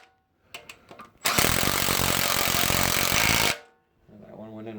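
A power tool runs bolts down into an LQ4 6.0 engine block during long-block assembly, one loud continuous burst of about two seconds after a few short clicks, with faint talk or handling noise following.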